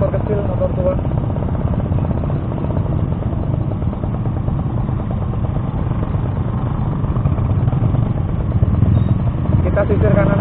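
Small old Suzuki RC 100 two-stroke motorcycle ridden on a rural road, its engine droning steadily and close throughout, rough and continuous with no break.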